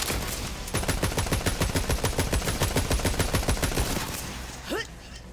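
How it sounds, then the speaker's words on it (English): An assault rifle in Borderlands 3 firing a long rapid automatic burst, crisp evenly spaced shots close up for about three seconds, trailing off into quieter game sounds. "Damn, I love this assault rifle"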